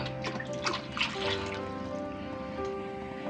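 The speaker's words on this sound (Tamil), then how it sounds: "அடுத்து இந்த குழம்புக்கு தேவையான அளவு தண்ணி" Water pours and trickles briefly into a pot of Tamil-style sardine curry, a short splashy stream easing off into light dribbling.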